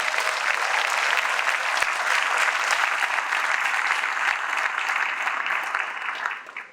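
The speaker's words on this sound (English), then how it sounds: "So please give them a round of applause." Sustained applause from a large crowd at a senior recognition night fills the space, steady and dense throughout before beginning to fade at the end.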